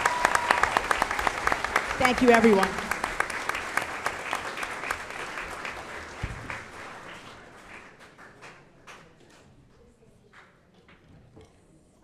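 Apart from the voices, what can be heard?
audience applause for staff award recipients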